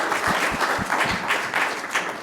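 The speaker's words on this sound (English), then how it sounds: "let's give the speakers a round of applause" Audience at a medical conference session on early detection and disease prevention applauds the speakers, a dense, steady patter of clapping, moderately loud, with a few deeper thumps throughout.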